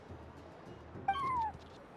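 A cat in a video game gives one clear, rising-then-falling meow lasting about half a second, heard close and alone over a faint, quiet background.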